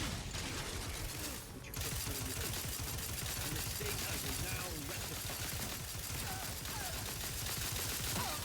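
Rapid gunfire in The Outer Worlds 2, dense bursts of shots layered over loud game sounds and music, with a voice talking over the action.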